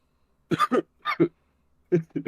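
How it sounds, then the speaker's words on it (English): A man coughs several times in short, close bursts, forcing up something caught in his throat, with brief pauses between the clusters. "let me mute myself real quick so I can cough"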